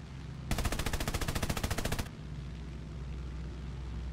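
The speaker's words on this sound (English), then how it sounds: "50 cals do have quite a lot of reach" Heavy .50 calibre machine guns fire a rapid, steady burst of about one and a half seconds in War Thunder, loud and close, then cut off to leave low aircraft engine drone.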